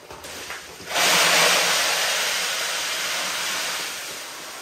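Dry food pours from a 25-pound bag into a Mylar storage bag as a steady loud hissing rush that starts abruptly and slowly fades, with no talking.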